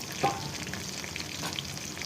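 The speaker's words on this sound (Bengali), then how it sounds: "কচুটা আমার ভাজা হয়ে গেছে এবং ভাজতে ভাজতে কচুটা সিদ্ধ হয়ে গেছে" Pieces of taro (kochu) fry in a pan with a steady, close sizzle and crackle throughout, and a brief utensil clatter near the start.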